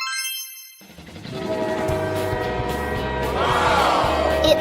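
Glowing cartoon train in a Peppa Pig story, heard as a steady rumbling roll with rhythmic low clacks and a rising horn-like tone, loud and near, after a brief silent start.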